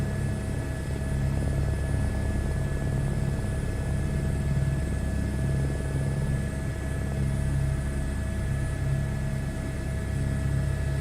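A simulated helicopter flies in a flight simulator game, its rotor and engine drone holding a steady, continuous, even level throughout, with a thin whine above the low thrum and no talking.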